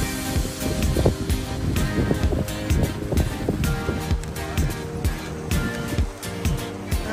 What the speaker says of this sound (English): Ooh, the waves are big.